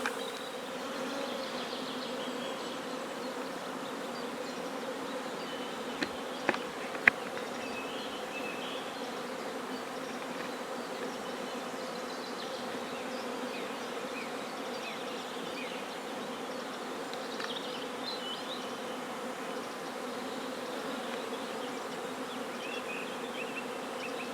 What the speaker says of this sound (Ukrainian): наші бджолині сім'ї ожили, дуже активно літають